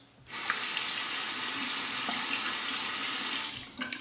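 A bathroom tap runs in a steady, close rush for about three seconds to rinse a razor during a lathered shave, then shuts off, leaving a few drips and clicks.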